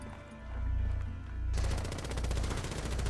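Rapid automatic gunfire in Rainbow Six Siege breaks out suddenly after a quieter low-humming stretch, a fast steady rattle of shots that continues loud and close to the end.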